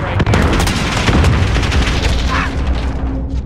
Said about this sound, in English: There's a guy shooting across the way.